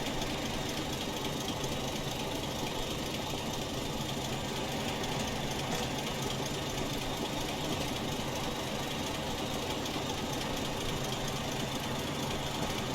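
A Class 25 diesel locomotive in Train Simulator Classic, accelerating hard through a station on the Edinburgh to Glasgow line, with a loud, unbroken, rough engine thrash that holds steady throughout, and no talk.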